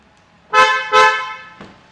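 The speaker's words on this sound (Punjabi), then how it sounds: "ਹਾਰਨ ਬਹੁਤ ਵੱਡੇ ਲੱਗੇ ਹੋਏ ਨੇ ਲਓ ਜੀ ਕਰੋ ਚੈੱਕ" A loud car horn on a used car for sale is sounded in two close blasts and then a shorter, weaker third toot, with no one talking.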